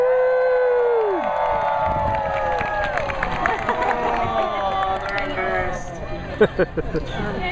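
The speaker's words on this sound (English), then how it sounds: "I'd like everyone to cheer as loud as they can" An audience at a sea lion show cheers and shouts loudly, children's voices prominent in a sustained crowd roar with scattered claps, an announcer's voice heard briefly.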